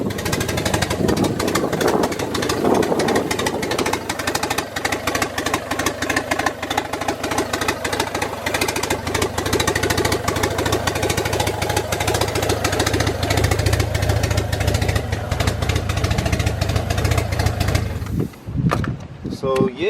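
A turbocharged Honda B20V engine in an Integra runs loudly and steadily for most of the clip, with a rough knocking pulse, before cutting out near the end.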